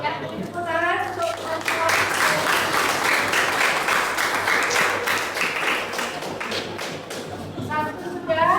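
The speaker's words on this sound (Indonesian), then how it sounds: "Ya, tepuk tangan untuk" Classroom applause in an Indonesian university teaching-practice session, a dense burst of clapping from a group that swells after brief speech, holds steadily, then fades as a voice returns at the end.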